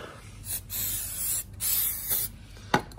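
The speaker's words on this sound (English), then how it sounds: "got our can, nice brake cleaner. Give it a spray down" Several bursts of brake cleaner spray hiss from an aerosol can onto a Porsche Boxster S rear brake part, short sprays in quick succession with brief pauses, close by, ending with a sharp click.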